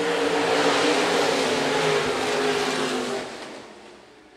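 Stock car engines roar together at full throttle as the field accelerates out of a corner on a dirt oval, a loud sustained mechanical drone heard from a distance that holds steady and then gradually fades.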